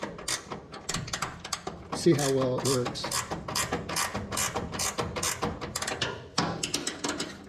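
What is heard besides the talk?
hood hinge adjuster tool being cranked, ratcheting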